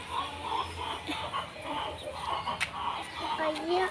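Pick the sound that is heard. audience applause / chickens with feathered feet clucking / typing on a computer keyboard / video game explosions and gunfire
chickens with feathered feet clucking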